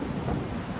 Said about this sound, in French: Sans oublier l'orage qui éclate soudain, avec le vent qui se déchaîne contre la tente et les trompes d'eau qui se mettent à tomber